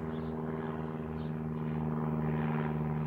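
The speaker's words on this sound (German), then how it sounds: "Da zum Beispiel fliegt gerade ein Flieger, also ein Flugzeug." Airplane flying overhead in an evening outdoor setting, a steady low droning rumble with a constant hum, sustained and moderately loud throughout.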